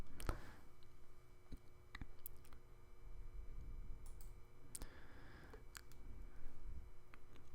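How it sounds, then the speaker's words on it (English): Faint, sparse clicks of keys on a computer keyboard as someone types a search query, irregular taps scattered across a quiet background. "Typing this in Google right now."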